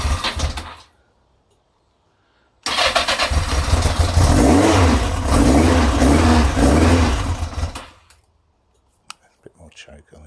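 A cold car engine, freshly refilled with oil and a new filter, cranks and catches into a loud, uneven rumbling run for several seconds before cutting out, with clicks afterward.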